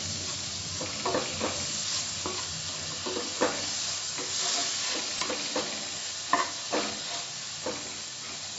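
Spices frying and being stirred in a pan for Punjabi dal tadka: a continuous close sizzle broken by repeated scraping strokes of a spatula, with no voices.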